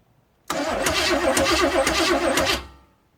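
A truck engine with a flywheel ring gear missing a tooth cranks and catches in one loud, rough burst of about two seconds, with rapid pulsing throughout, then cuts off abruptly.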